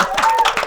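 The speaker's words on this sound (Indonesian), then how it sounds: "Tepuk tangan dulu untuk putra putri Semansa kita." Audience clapping for a school's Putra Putri SMANSA ambassadors, a short burst of close, fairly loud hand claps in quick irregular rhythm.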